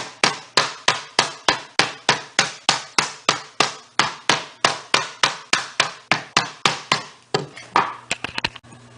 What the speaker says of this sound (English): it's going to be a meat mallet that I use to hammer it